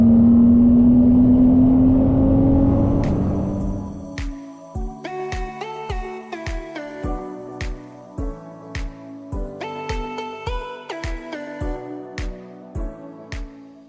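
A car engine revs and accelerates on a racing circuit, climbing steadily for a few seconds, then gives way to a loud rhythmic series of sharp pulses, close and without talk.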